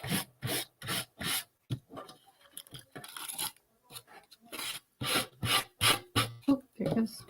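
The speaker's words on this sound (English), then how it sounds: "I'm going to take my block and I'm just going to go around the edge so I'll trim it up." Sanding block rubbing around the edge of a decoupage piece to trim it, a close, loud rasping scrape repeated in quick rhythmic strokes with a brief pause midway.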